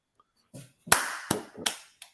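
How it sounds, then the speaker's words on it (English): A woman claps her hands, four sharp, separate claps close by in quick succession, followed by a fainter fifth, with silence around them. "I saw her clapping."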